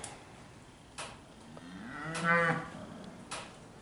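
A cow on pasture with calves lets out one clear moo at middle distance, surrounded by soft outdoor background noise and a couple of faint knocks.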